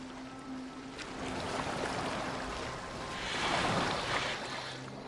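A boat glides across water in a video game, a steady washing surge of water with a faint low hum, swelling louder toward the end, with no voices.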